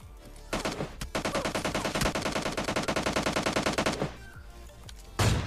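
Rapid automatic gunfire in the PUBG Lite mobile shooter, a dense burst of about three seconds after a couple of single shots, loud and close, then a short pause and one more heavy blast at the end.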